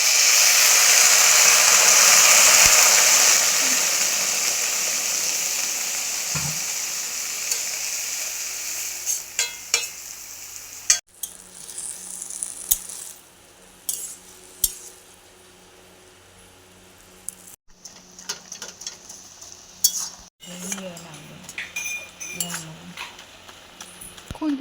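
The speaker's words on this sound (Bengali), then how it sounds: "ভাজা ভাজা হয়ে গেছে, খুব একটা ভাজবো না, আস্তে আস্তে" Jute leaves frying in a pan as they are stirred with a spatula, a steady sizzle at first, then sparse scrapes and clinks of the utensil against the pan, close by.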